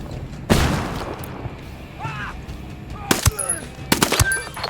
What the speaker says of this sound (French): Hey, je balance une flashbang.